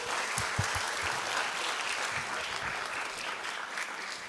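Audience applause at a missionary society's 50th-anniversary symposium, welcoming a priest to the podium; a dense, sustained roar of clapping from a large hall, even and continuous throughout with a few distant low thumps.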